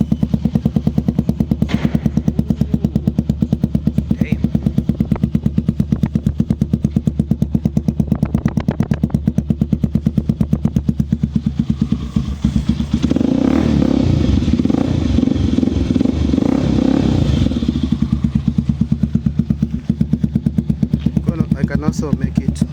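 A Tekken 250 Pro motorbike engine fitted with dual Akrapovic exhaust tips runs loud and close with a rapid, steady, throbbing idle, swelling briefly midway, with talking over it.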